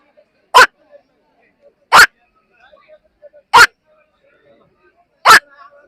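A man imitates the night call of the wak bird with four short, sharp, evenly spaced cries, each loud and clipped, separated by quiet pauses with faint background noise.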